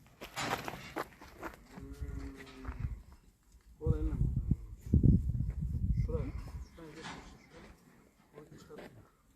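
A pregnant yellow cow on a farm lets out several loud, drawn-out moos close by, separated by pauses, while people talk around her.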